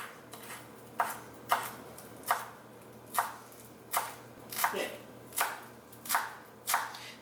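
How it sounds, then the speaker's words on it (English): Fresh parsley is rough-chopped with a knife on a cutting board, about a dozen crisp, evenly spaced chops close up, each a sharp tap with a short tail, over a quiet low hum. "So we want to chop this rough chop, but not big pieces"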